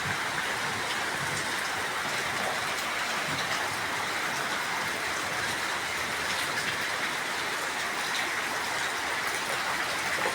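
Rain falling around a house in the mountains, a steady, dense hiss of drops that stays constant and moderately loud throughout, with no voices.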